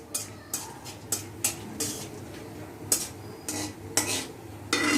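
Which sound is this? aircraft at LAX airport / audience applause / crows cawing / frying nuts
frying nuts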